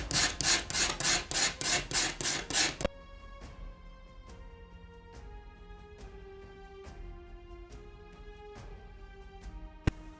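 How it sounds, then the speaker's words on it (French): A leather worker's knife blade is sharpened on both sides against grit, first as a quick run of rhythmic rasping strokes, then lighter scattered scrapes with metallic ringing taps. "Donc je poursuis maintenant par l'affûtage des deux côtés"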